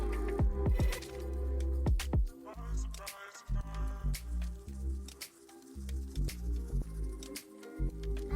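Wet, squelchy sounds of conditioner being worked through soaking hair by hand in a shower, close and fairly steady with irregular squishes and small drips.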